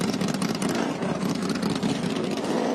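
Racing car engines running on a track during a classic and muscle car race, a dense steady mechanical roar heard from a distance, with a commentator talking over it.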